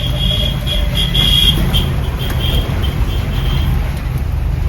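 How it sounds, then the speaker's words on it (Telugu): Busy roadway with bikes and autos passing close by, a dense continuous traffic rumble broken by a few brief high squeals, with no talk over it. "రోడ్డు మీద బైకులు, ఆటోలు అన్నీ ఉంటాయి."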